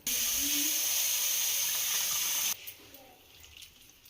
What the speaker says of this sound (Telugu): దీంట్లోకి మళ్ళీ నీళ్ళు వేసి కడిగేసి పెట్టేసేయాలి